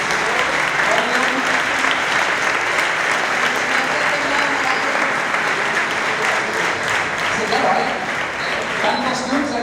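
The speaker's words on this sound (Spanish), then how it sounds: "Aplauso para Benjamín femenino y Benjamín masculino." Audience applause at an athletics awards gala honoring youth category winners, dense continuous clapping filling the room at steady volume, with faint voices mixed underneath.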